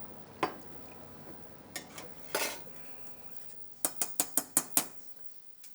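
Metal utensils clink and scrape against a pan while pilaff cooks with stock being added, a few sparse knocks early, then a quick run of sharp, close clatters near the end, no talking.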